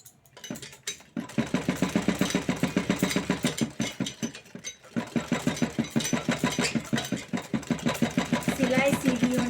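A sewing machine stitching blouse fabric runs in rapid, rhythmic bursts, with its needle chattering close and loud after a brief pause near the start, while someone talks over it.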